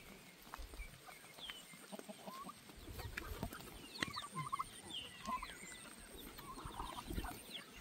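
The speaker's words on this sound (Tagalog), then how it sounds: "Yan na at sumalubong na ating mga alagang manok." Pet chickens in a yard, with scattered clucks and short calls, some gobble-like, rising over a low rustling background, fairly faint and distant.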